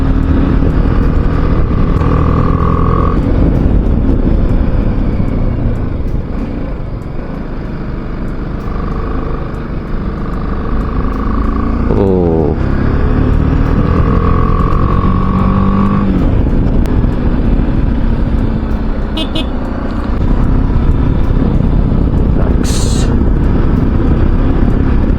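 A motorbike cruises along a road on a ride from Mumbai toward Akkalkot, its engine drone and rushing wind loud and continuous, with a few gear-shift changes in pitch and no talk.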